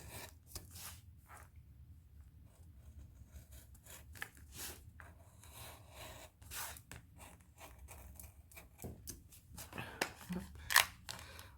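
Scissors cut paper for a scrapbook photo album, making a series of quiet, irregular snips that grow livelier and closer toward the end.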